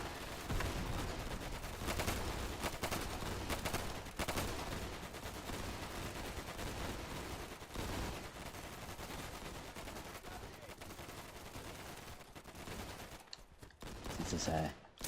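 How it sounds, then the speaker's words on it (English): Heavy machine gun fire in the war game Easy Red 2, dense sustained bursts of automatic gunfire mixed with distant battlefield shots, loud and continuous throughout, with a brief quieter gap near the end before more firing. "I'm suppressing their heavy machine guns"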